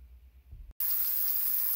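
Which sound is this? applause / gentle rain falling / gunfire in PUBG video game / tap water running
tap water running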